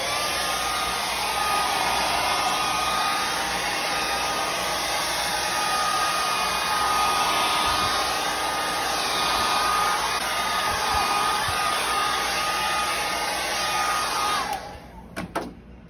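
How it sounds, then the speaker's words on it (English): A hair dryer blows steadily and loudly for about fourteen seconds, drying a freshly sprayed finish, then switches off with a few brief knocks as it is set down. "Immediately dry this with a hairdryer once again."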